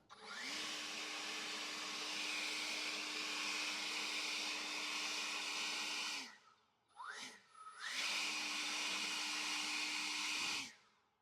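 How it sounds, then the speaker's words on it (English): A handheld leaf blower, run on its lighter non-turbo setting, clearing leaves off a gravel garden path, with a steady loud whine that drops out briefly near the middle, sputters, then resumes at full strength before cutting off. "The leaves are going, but the gravel isn't."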